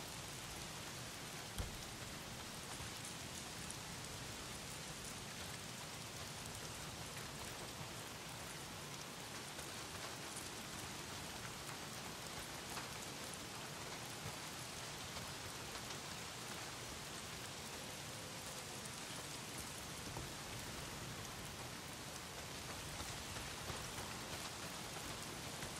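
Steady heavy rain pours down without pause in the Days Gone video game, a dense hiss of drops on surfaces with no voices over it.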